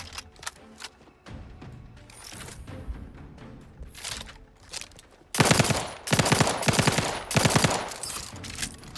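Gunfire in The Outer Worlds 2, scattered single shots early on, then loud rapid bursts of automatic fire in several rhythmic volleys, close and punchy.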